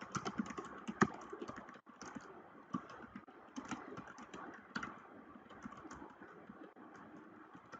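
A computer keyboard is typed on steadily to enter a post title in WordPress, with a close, continuous patter of quick key clicks carrying on without pause and no voices.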